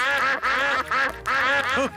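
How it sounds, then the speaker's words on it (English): Cartoon ducks quack in a quick series of four or five loud, nasal calls, close and clear with no talking over them. "Here come more ducks"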